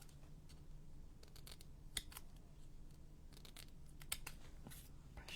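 Scissors snipping through paper for a junk journal, a few faint sharp cuts and clicks spaced apart over a quiet background.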